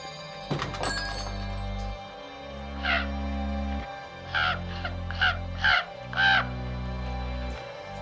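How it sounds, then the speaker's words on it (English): A raven gives a series of harsh caws, about five spaced calls over a steady low background hum, fairly close and clear. "It's a raven, my friend."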